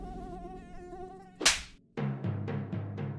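A mosquito buzzes in a thin, steady whine, then a sharp burst and several short pulses follow. The sound is faint and close, with no talking.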